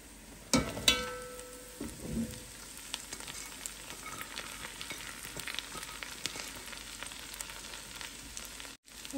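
Vegetables hitting a pan of browned garlic and frying, a bright steady sizzle that flares at the start and continues close and loud, with occasional stirring clatter.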